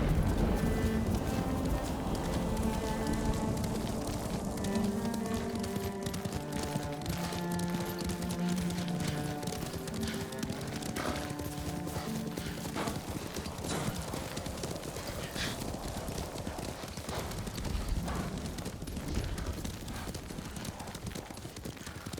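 Rapid hoofbeats of a galloping horse in the video game Ghost of Tsushima pound steadily and loudly, layered over a swelling orchestral score that plays continuously underneath.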